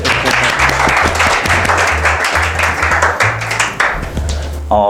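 Loud audience applause at a talk concert held at a college, dense clapping from a crowd with musical background tones underneath, continuing steadily before tapering at the end.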